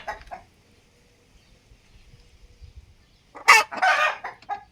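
Chickens in a village coop cluck loudly and squawk in a burst near the end, after a brief call at the start and a quiet stretch between.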